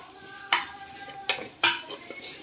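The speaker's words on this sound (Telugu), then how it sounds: "ఆకు అడుగంటి పోకుండా కలుపుతూ ఉండండి" Holy basil leaves stirred in a hot dry pan without oil, a soft sizzle under a few sharp scrapes and clinks of a spoon against the pan, close up, with no talking.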